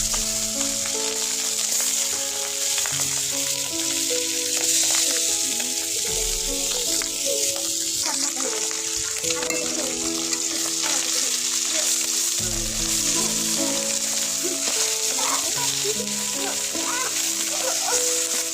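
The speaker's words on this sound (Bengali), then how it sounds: "এখন মাছগুলো ভাজবো।" Chakka fish sizzle loudly in hot oil in a pan, a dense, continuous crackling hiss that runs throughout with occasional stirring, and faint voices sit in the background.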